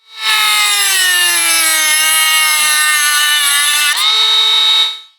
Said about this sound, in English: we're going to cut the head off in real time